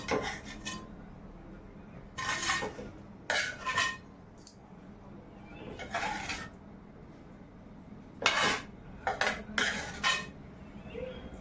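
Egg curry gravy is scooped from a pot into a bowl with a metal ladle, giving repeated clinks and scrapes in short bursts against a quiet background.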